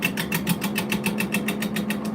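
A wood lathe spinning a bowl blank while a large bowl gouge cuts, giving a steady pulsing whir with rapid rhythmic scraping beats, continuous and close.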